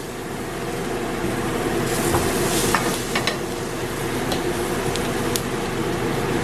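Onions and mushrooms browning in a pan, a steady close sizzle and crackle with a few light clicks of stirring, continuous with no voices.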